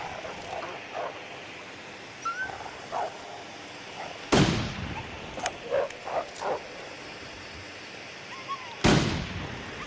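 Gunshots ring out in The Long Dark, two sharp, loud blasts a few seconds apart, each with a short echoing tail, over a quiet outdoor backdrop with a few fainter knocks and scuffs between them.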